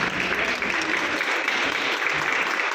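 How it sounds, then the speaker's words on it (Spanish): Audience applause for a speaker at a law presentation at a Mexico City school, a dense patter of many hands clapping steadily and fairly close, holding strong for the whole stretch. "Vamos a darle un fuerte aplauso al maestro."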